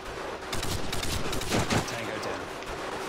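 Rapid bursts of automatic gunfire in Modern Warfare 2, loud and close, with sharp overlapping shots and a chaotic firefight feel throughout.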